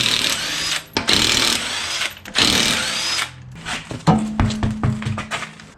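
A power tool, likely an impact gun, removing the front wheel of a 1997–2005 Lexus GS, firing in loud whirring bursts separated by short pauses, then a series of quicker rattling pulses.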